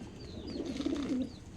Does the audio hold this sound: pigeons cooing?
yes